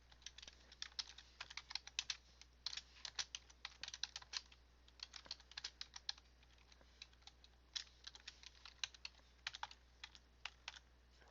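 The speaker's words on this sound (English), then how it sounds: "I don't know how to spell Dustin, so I'm just going to type that." Quiet typing on a computer keyboard, a rapid irregular run of soft key clicks in short bursts with brief pauses, alone without speech.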